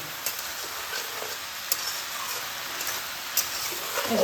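Cabbage frying in a pan for a Bengali vegetarian dish, stirred with a utensil, giving a steady soft sizzle with a few light scrapes and clicks against the pan, moderately close and without talk.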